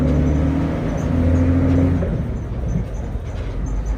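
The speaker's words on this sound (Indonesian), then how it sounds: "Kalau dari suara-suaranya sih ini mesinnya Hino AK1C ya" A Hino AK1C engine idles and runs on an intercity bus pulled up in front of a terminal, a steady loud low rumble with engine tones that ease off midway, continuous throughout.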